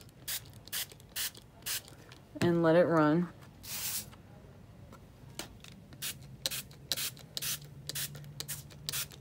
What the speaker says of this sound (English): Now we're gonna take the Distress Sprayer.